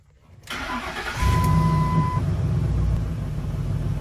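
A Ford F-150's 5.4L 3-valve Triton V8, faulted running lean and rough, cranks briefly and catches, settling into a deep, steady idling rumble nearby with no talking.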